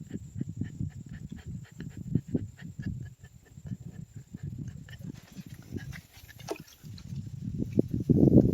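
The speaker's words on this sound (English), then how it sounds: "the only thing you can hear is the damn dog panting" A dog panting in a canoe on the Elk River in Tennessee: fast, close, rhythmic breathing runs steadily throughout, rising louder near the end, with light water sounds faintly behind it.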